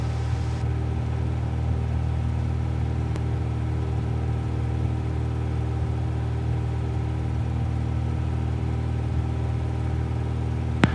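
A Cessna 172 Skyhawk engine drones steadily during a climb-out after takeoff, a continuous, close propeller-engine hum heard from inside the cabin with no talking and only a faint click or two.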